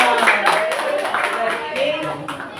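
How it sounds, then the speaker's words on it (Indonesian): Students in a classroom applaud group 2 after an assessment presentation, with fairly loud, uneven clapping mixed with voices. "tepuk tangan buat kelompok 2."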